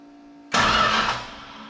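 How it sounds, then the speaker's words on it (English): A 1968 Chrysler Newport engine cranks over with the pedal left alone, a sudden loud starter churn that starts after a short silence and fades slightly over about a second. "Just crank it over."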